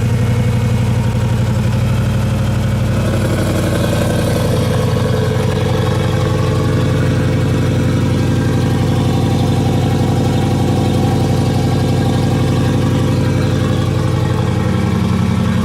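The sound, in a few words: V8 engine idling with open exhaust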